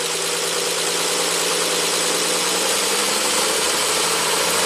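A 1967 Triumph GT6's engine runs at raised RPM with a steady, loud, continuous hum and buzzing drone close by, holding an even pitch throughout.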